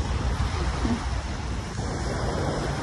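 Waves from Manila Bay wash onto Dolomite Beach in a steady, broad rush of surf mixed with wind noise, fairly faint and continuous throughout.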